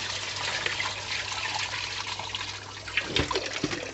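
Bio balls from a snapping turtle tank filter are rinsed in aquarium tank water, giving a continuous close trickling and splashing with a few heavier sloshes near the end.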